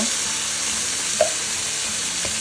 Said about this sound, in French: vous ajoutez votre petite boîte de pulpe de tomate